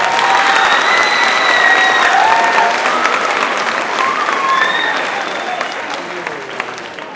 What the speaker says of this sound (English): Let's have another round of applause for our performers.